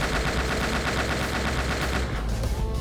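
Rapid bursts of gunfire in the shooter game World's Crisis, dense and continuous up close before thinning out near the end, with no talk over it.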